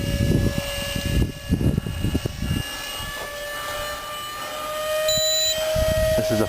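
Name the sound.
Nitro Planes F15 camo model jet flying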